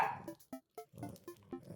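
A small pet dog gives a run of short, quick barks and yips at close range, several sharp bursts separated by brief pauses.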